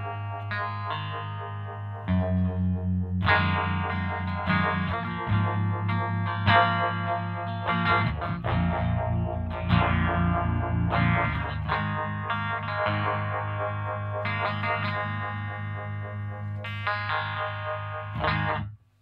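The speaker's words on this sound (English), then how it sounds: "Earthquake Devices Depths, which is an optical univibe." Clean electric guitar through an Earthquaker Devices Depths optical univibe pedal, chords and picked notes pulsing with a lush, swirling modulation, played close and sustained for most of the passage before a sudden stop.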